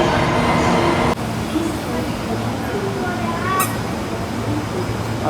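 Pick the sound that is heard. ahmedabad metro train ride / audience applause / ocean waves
ahmedabad metro train ride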